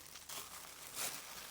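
A delivered package being opened, its wrapping crinkling in a couple of quiet close rustling bursts.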